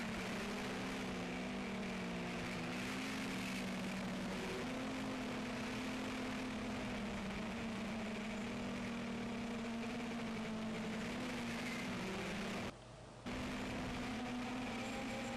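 An MJX Bugs 3 quadcopter drone flies low between trees, its steady propeller whine and motor hum continuous throughout, shifting slightly in pitch with throttle and dropping out briefly near the end.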